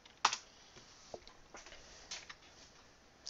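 Someone types on a computer keyboard at a Linux command line, making a few soft, close key clicks spaced irregularly over a quiet background.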